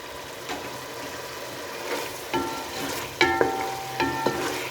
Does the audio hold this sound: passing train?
no